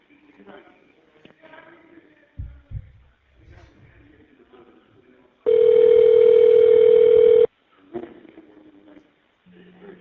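On a prison inmate call line, a steady two-second telephone tone sounds between stretches of quiet talk and faint handling noise, with a short thump earlier.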